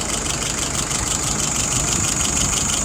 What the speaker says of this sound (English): Motor's nice and smooth, no stumble.